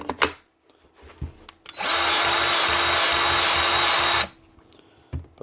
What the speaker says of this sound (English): Right, Milwaukee grease gun